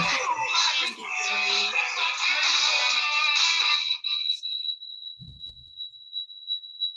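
A phone plays a song as a ringtone, with dense music for about four seconds that then thins to a single sustained electronic tone, like feedback, lingering faintly to the end.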